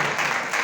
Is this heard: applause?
yes